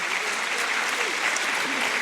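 Steady applause from a church meeting audience welcoming a couple, dense continuous clapping heard alone at moderate level.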